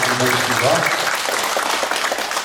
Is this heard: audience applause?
yes